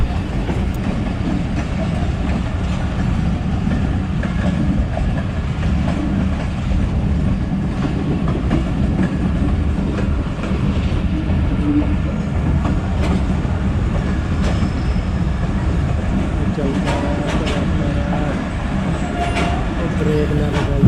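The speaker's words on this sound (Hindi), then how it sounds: "अप मिलत एक्सप्रेस लोधरा से आ रही है डायरेक्ट, और दोनों की रेस हो गई है" The Karachi Express passenger train runs at speed on rails between Multan and Lahore alongside another passenger train, a loud, steady rumble with continuous wheel clatter heard from aboard, with faint voices underneath.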